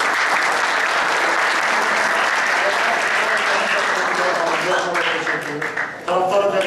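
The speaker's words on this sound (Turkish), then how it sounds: "bugün bizi yalnız bırakmayan hepinize güzel bir alkış" Dense, steady applause from a panel audience at a newspaper event in Şanlıurfa fills the room nearly the whole time, thinning briefly near the end as a voice starts to come through.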